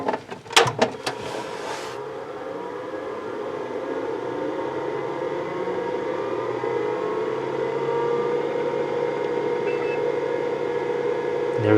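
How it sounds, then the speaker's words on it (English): An original IBM PC/XT from 1986 during a cold boot, with a few sharp clicks and clunks at power-on giving way to a steady, droning whir of the disk drive and cooling fan that holds through to the end. "There's the sound of that nice drive."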